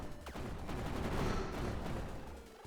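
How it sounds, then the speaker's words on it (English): Rapid bursts of piercing-shot weapon fire from a Contra-style cyberspace shoot'em up game, a dense, continuous volley of synthetic gunfire that stays loud for the whole stretch before tailing off slightly at the end. "So this is like a piercing shot"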